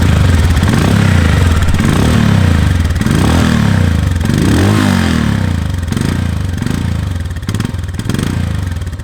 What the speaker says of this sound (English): let's hear the exhaust note.